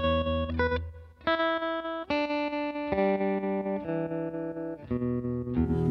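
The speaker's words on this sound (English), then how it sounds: "This one is the 65 optical tremolo." An electric guitar plays through a 65 optical tremolo effects pedal, sustained chords and notes ringing in short successive phrases with a pulsing, wavering volume, loud and clear with no talking.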